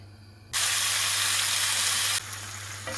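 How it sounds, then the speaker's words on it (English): A sudden loud sizzle erupts as beef hits hot oil in a pan, a steady hiss that then eases to a softer crackle. "Oil on the pan, we just wait for it to heat up and we'll begin by frying our beef."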